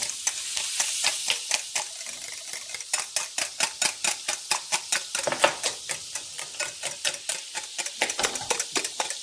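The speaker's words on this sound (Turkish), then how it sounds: "Yumurtamı gördüğünüz gibi unumu yedirdim. Gayet güzel çırptım." Egg and flour batter for Turkish kaygana whisked briskly in a bowl, a steady, close rapid clicking rhythm of whisk strokes against the bowl, with no talk.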